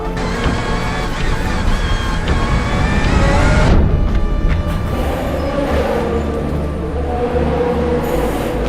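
A Le Mans race car rolls into its pit box, a loud whining mechanical tone with high squealing overtones that abruptly drops into a lower, rougher rumble about halfway through, amid steady pit-lane noise.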